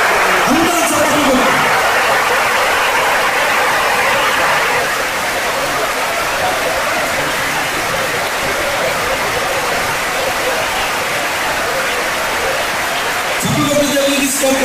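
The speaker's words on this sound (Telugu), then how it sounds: "అందరూ చప్పట్లు." A church congregation claps together in a dense, steady wash of applause that holds for most of the stretch, with a voice speaking briefly at the start and again at the end.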